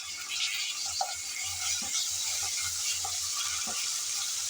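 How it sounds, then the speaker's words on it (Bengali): Ginger-garlic paste frying in hot oil in a pan, a steady close sizzle with intermittent scraping and clicking strokes from a spatula stirring it. "নেড়ে চেড়ে ভালোভাবে আদা রসুনের কাঁচা গন্ধটা চলে যাওয়া অবধি ভেজে নিতে হবে।"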